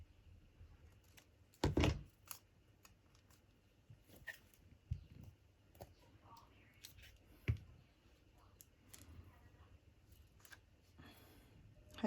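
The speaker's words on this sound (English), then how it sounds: "just trim that off a little bit." Scissors trim the edge of a paper tag with a few soft, close snips and one sharper cut early on, over a faint background hum, with a little speech.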